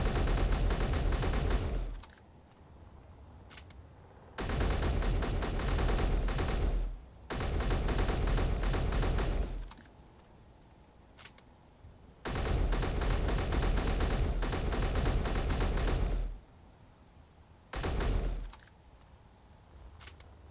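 Sustained automatic machine gun fire from a Space Engineers game battle, loud dense bursts lasting a few seconds each, broken by short pauses and a brief final burst, no voices.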